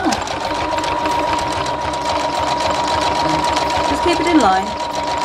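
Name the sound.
sewing machine stitching fabric with zigzag over cord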